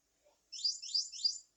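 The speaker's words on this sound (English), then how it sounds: "So let's try chirp, see what that sounds like." A disc finder beeper set to its chirp tone gives three quick, high, bird-like chirps in a row, faint and clean against near silence.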